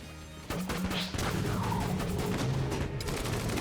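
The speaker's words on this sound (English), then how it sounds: "Having some explosions is nice." Explosions and gunfire in the video game Enter the Gungeon. A dense, loud barrage of blasts and crashes starts abruptly and continues with rapid crackling impacts to the end.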